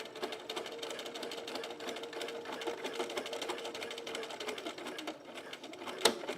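A home sewing machine stitches a Cashmerette Loftus bralette in a continuous, even run of rapid needle strokes, close but moderate in volume, with a sharp click near the end and no voices.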